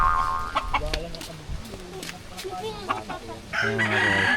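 A rooster crows loudly nearby, with hens clucking around it and a person's voice briefly in the background.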